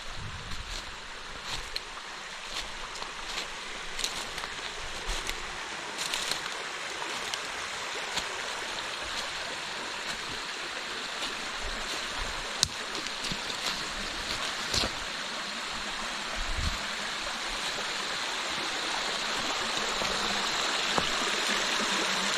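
A small river stream flows near a cave, with a constant broadband rush of water and a few faint clicks and knocks, steady and close throughout with no voices.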